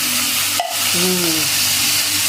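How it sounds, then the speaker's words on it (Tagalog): Corned beef frying in a pan with garlic and onion, giving a dense, steady sizzle close up, with a brief tonal squeak and a voice murmuring faintly under the frying. "nagluluto siya. Nilagyan ng bawang at sibuyas. Nilagyan ng corned beef."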